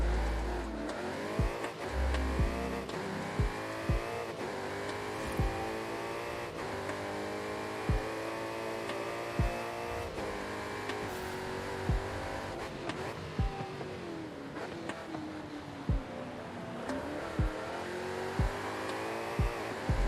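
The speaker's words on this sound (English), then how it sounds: "Why does this sound like the stock engine?" A car engine in the Forza Horizon 5 racing game revs and drones through repeated gear changes, pitch climbing and dropping with sharp shift clicks, steady and prominent throughout.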